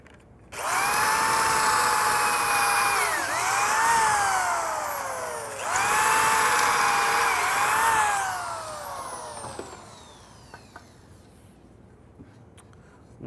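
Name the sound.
drilling pocket screw holes in wooden cabinet stretcher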